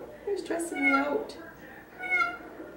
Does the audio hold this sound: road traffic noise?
no